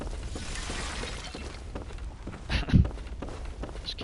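Glass shattering in the video game Bloodborne, one short crash near the end of a low rumbling, muffled game ambience, fairly loud against the background, with no talking.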